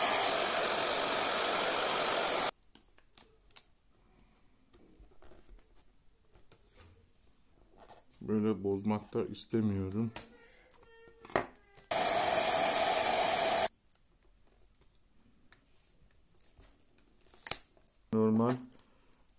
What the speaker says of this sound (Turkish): Yani bataryanın üstüne de saç kurutma makinesi tutulur mu?